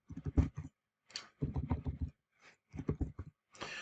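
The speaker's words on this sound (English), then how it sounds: "I'm going to press E on my keyboard and I'm going to type border." Keys on a computer keyboard clatter close by in four short bursts of rapid typing separated by brief pauses, while building in Minecraft Education.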